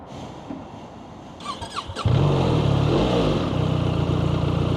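A 2026 BMW R1300RT LE motorcycle engine starts with a few squeaky clicks and then settles into a loud, steady idle close by, with no talk.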